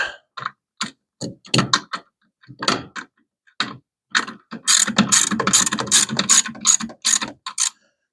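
A ratchet wrench turning a socket on an engine: bursts of rapid clicking pawl ratchet strokes, close and crisp, separated by short pauses, with a longer continuous run of clicks near the end.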